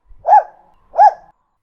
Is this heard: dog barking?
yes